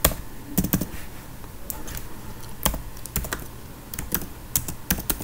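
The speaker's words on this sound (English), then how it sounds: "First I'll go to Python, then I'll type help." Keys on a computer keyboard are tapped in short irregular bursts with small pauses between, close and fairly clear, with no voices.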